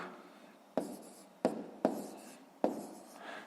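A pen writes decimal numbers on paper for a fifth-grade math exercise: four quick, distinct scratchy strokes in a quiet room, close and fairly soft.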